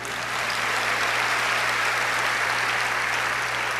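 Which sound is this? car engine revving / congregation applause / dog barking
congregation applause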